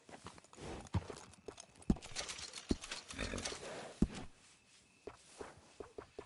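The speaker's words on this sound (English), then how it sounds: "Nothing better than a well-groomed horse." Hooves clip-clop on the ground from a groomed horse, the sharp impacts irregular and fairly close, with busy rustling between steps and only a hint of a neigh.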